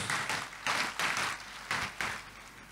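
A church congregation claps together in applause, coming in several rhythmic bursts that swell and fade, fairly close and with no talking over it.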